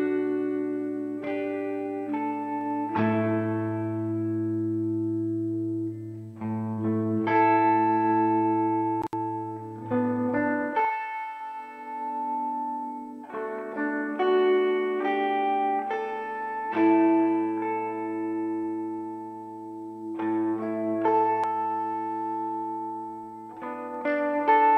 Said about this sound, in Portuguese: vamos testar esses modos e testar um pouco esse reverb